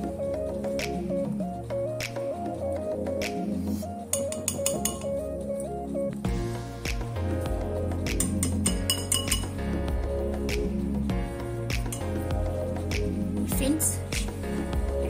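Forks clink against each other and a dish while wafers are dipped into melted chocolate for a homemade crunchy bar, light metallic taps scattered over cheerful background music, with someone talking throughout.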